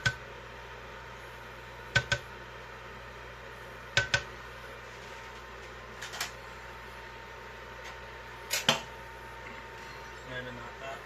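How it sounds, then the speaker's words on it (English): Container lids are scraped clean with a utensil while making chow mein hotdish, giving a few sharp, short scraping strokes spaced a couple of seconds apart over a quiet kitchen background. "I like to scrape the lids too"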